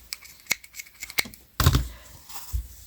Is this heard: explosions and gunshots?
no